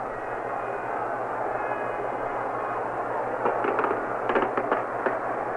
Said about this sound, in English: Now somebody is setting off fireworks over in the end zone area.